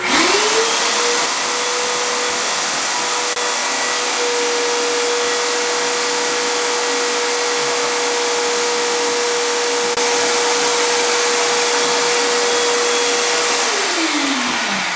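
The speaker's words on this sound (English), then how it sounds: "we brought over our shop vac from my basement workshop so that we could get everything" A shop vac roars steadily close by, sucking up nails and staples from a floor after old carpet removal, its motor spinning up at the start and winding down at the end, with a rough, gritty suction hiss throughout.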